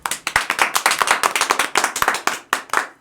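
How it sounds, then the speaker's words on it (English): Several people clap in a quick, uneven round of applause indoors, sharp claps close and loud, with no talk over them. "First off, round of applause for JB."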